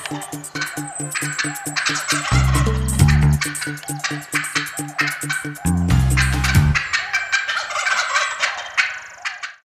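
Wild turkey toms gobbling in the woods, with several loud, rattling bursts in quick succession and close overlapping calls building and fading, with no voices over them.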